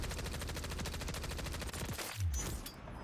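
Rapid automatic gunfire in the video game Warzone, a dense rattling burst of shots repeating steadily for about two seconds, then breaking off into scattered cracks and a sharp final shot, with no voices.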